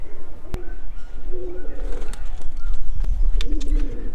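Pigeons cooing in soft, low repeated bursts close by, with a few sharp clicks and rustles in the background.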